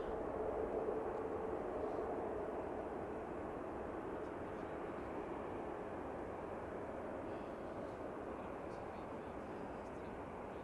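An Airbus A380 airliner on a snowy runway at Manchester Airport gives off a steady, broad jet-engine roar that holds even and loud throughout, with no talking.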